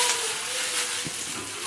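Garlic tossed into a hot pan of lentils sizzles with a steady, close hiss that holds evenly throughout, with small soft clinks near the end.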